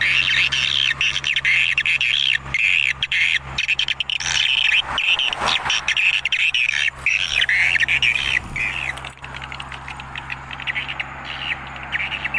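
Continuous swallow calls and squawks played from a speaker at dusk, repeating over a steady background of insect chirring, fairly loud and constant throughout, with no talking.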